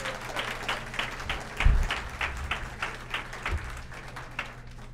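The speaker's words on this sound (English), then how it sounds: "Please give a round of applause to Trevor." An audience at a talk on balance and dizziness claps for a volunteer, a moderate, even patter of many hands, with a couple of low thumps beneath it.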